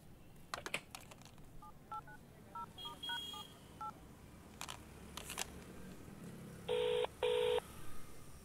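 A telephone number being dialed: a run of short keypad beeps in an uneven rhythm, then two longer tones, over faint background hiss.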